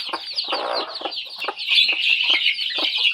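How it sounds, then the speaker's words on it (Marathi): A native farmyard hen clucks repeatedly in short, close bursts while tending her week-old chicks, whose high thin peeping runs steadily underneath. "ही खूप ॲग्रेसिव्ह आहे कोंबडी, पण चांगली पिल्लं सांभाळते"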